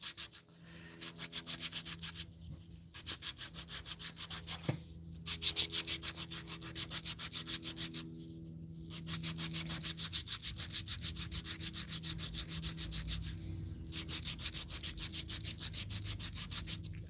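Hook and loop sandpaper on a homemade grip-tape sanding block rubs wood in repeated close strokes, steady raspy bursts separated by short pauses.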